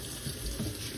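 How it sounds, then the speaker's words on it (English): Hot water runs steadily from a kitchen sink faucet, a continuous close splashing hiss for about a second with no talk. "Got hot water."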